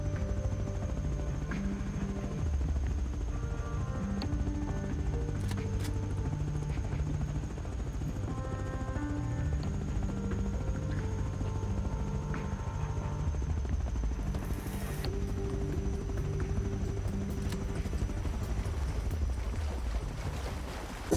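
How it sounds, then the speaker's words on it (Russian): A helicopter in the survival game Rust thrums steadily with a constant rotor chop throughout, moderately close and continuous, with faint scattered game sounds around it. "Коптер, коптер, коптер."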